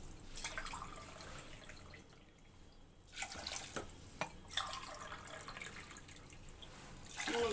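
Water is poured from a glass onto rice in a cooking pot, heard as splashing pours broken by short pauses, close and moderately loud.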